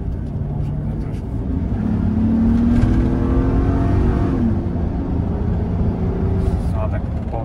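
A Chevrolet Suburban Z71 accelerates at part throttle, heard from inside the cabin as a steady engine drone that rises in pitch, with people talking in the background.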